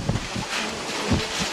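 Strong typhoon wind gusts through a crowded shoreline shanty compound in Manila's Baseco area, a steady broadband roar with rustling and a few low buffeting thumps, loud and continuous with no voices.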